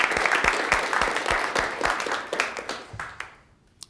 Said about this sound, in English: One more round of applause for Morgan, please, ladies and gentlemen.